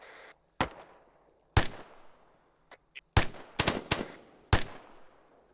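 Gunfire in a WWII-style military video game: a string of sharp, loud shots, single cracks and short bursts at irregular intervals, with faint distant pops between them.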